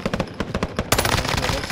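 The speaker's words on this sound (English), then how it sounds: "He's shooting that." Rapid video game gunfire, bursts of automatic shots in quick succession, loud and close, growing denser partway through.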